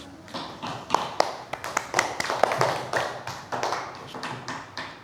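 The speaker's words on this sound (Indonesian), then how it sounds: "Tepuk tangan anak-anak, tepuk tangan." Children in a classroom applauding, a dense patter of many small hands clapping in a quick, uneven rhythm that swells and then gradually thins out, with no voices over it.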